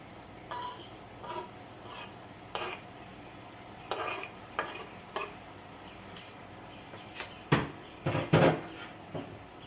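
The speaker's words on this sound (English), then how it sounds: "I'm just gonna stir it up. Make sure everything goes in nice." Fresh vegetables are stirred into a pot of Jamaican-style curry coconut shrimp, with a spoon knocking and scraping against the pot in a series of irregular clacks that grow louder toward the end, and no voices.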